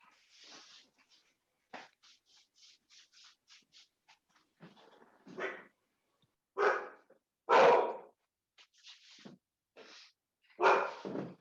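A dog barks indoors at home: a few soft scratchy sounds, then four loud, separate barks spaced a second or more apart, close by, with no talking over them.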